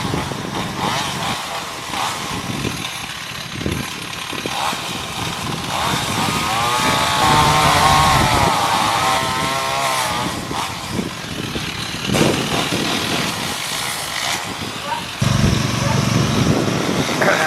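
Chainsaw cutting down a tree, its engine droning steadily and loud throughout with surging revs, while voices talk over it at times.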